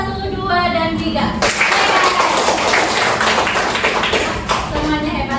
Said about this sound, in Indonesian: tepuk tangan dulu untuk kelompok 1, 2, dan 3